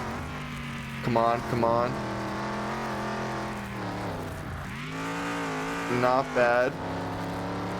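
Ford Bronco engine in Car Mechanic Simulator 2021, droning and revving as the truck is driven, with two sharp bursts of acceleration or tire squeal, someone talking over it throughout.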